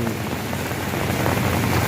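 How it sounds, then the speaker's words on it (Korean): Steady rain falls by a roadside in Laos, a dense continuous hiss of drops on surfaces, fairly loud and close, with no voices. "지금 창밖엔 비가 내려요."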